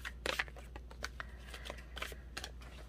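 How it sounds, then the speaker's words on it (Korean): Tarot cards drawn and shuffled by hand, a quiet run of soft flicking and sliding card sounds in short bursts over a faint low hum. "그리고 조언 카드를 뽑아보도록 할게요."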